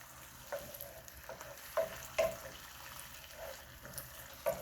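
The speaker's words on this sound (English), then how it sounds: "You're going to add in your shrimps." Shrimp going into a hot pan for shrimp scampi sizzle softly at moderate distance, with a few scattered clinks and stirring knocks, no voices.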